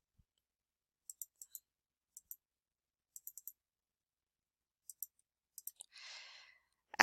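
A computer mouse clicks close up in quick pairs and small clusters, crisp and isolated against near silence, with a brief rustle toward the end.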